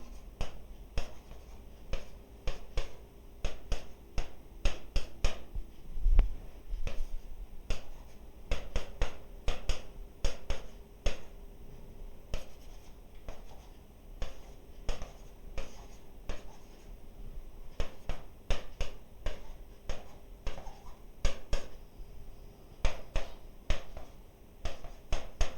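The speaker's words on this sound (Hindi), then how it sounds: "जैसे यहां पे मैं ABCD लिखता हूं" Pen strokes on a board or paper as the letters A, B, C and D are written, a steady run of short, crisp scratching taps close by, with no talk.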